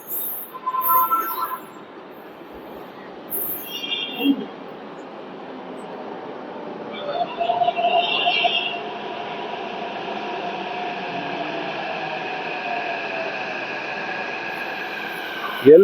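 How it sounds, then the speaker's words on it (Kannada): A Hyderabad Metro train pulls into a covered station platform, its hum swelling from faint to a steady, fairly loud drone that holds to the end, with a few brief high chirps early on. "ಒಂದು ಮೆಟ್ರೋ ಬಂತು ನೋಡಿ, ತೋರಿಸ್ತೀನಿ ಇವಾಗ."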